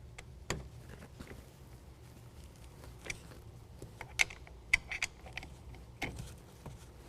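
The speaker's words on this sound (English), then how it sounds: "go ahead and tighten that down with the supplied Allen wrench" A rear latch stop on a tonneau cover being tightened with a small Allen wrench, heard as faint scattered metallic ticks and clicks in a quiet space, with no talking.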